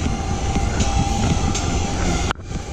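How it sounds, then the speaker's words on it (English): A train passes close by on a rail line beside a mountain-bike trail, a steady loud rumble and roar that cuts off abruptly near the end, with no one talking. "Another train, damn!"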